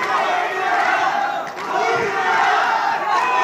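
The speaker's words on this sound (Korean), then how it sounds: "관중들은 두 선수의 이름을 연호하고 있습니다" A fight arena crowd chanting the names of two fighters, a loud, continuous roar of many voices with rhythmic swells, filling the space close and dense.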